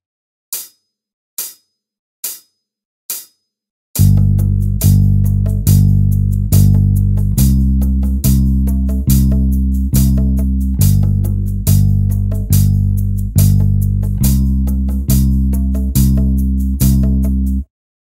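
Bass guitar played in steady sustained quarter notes, one bar on G and then on C, after four sharp count-in clicks, loud and alone with each note ringing into the next.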